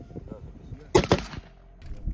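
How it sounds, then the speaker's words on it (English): A sharp, loud blast from 30mm AGS-17 automatic grenade launcher and mortar fire at a military exercise range, with a couple of quick follow-up reports, then quieter background. "grenade launchers fired 30mm AGS-17 Plamya, while mortar crews performed shooting tasks"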